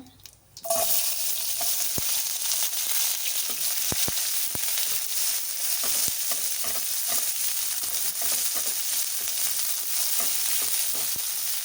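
Onions fry in a pan for a vegetable sandwich with a steady, loud sizzle that runs throughout, broken by irregular clicks and scrapes of stirring close by. No one speaks.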